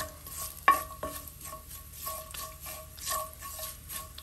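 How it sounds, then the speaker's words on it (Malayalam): Fenugreek powder fries in a pan for a Kerala ginger pickle (inji puli) with a soft, continuous sizzle, broken by a few sharp scrapes and clinks of a spoon stirring against the metal. "ഉലുവാപ്പൊടി ഒന്ന് വറുത്ത് കഴിഞ്ഞാൽ നമുക്ക് ഒത്തിരി ഞാൻ ഫ്ലെയിം കുറച്ച് വെച്ചേക്കാം"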